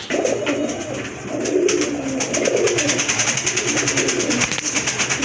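A pair of pigeons coo close by in repeated low, throaty calls in a steady rhythm, with a little background noise.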